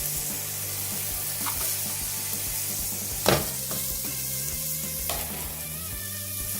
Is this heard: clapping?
no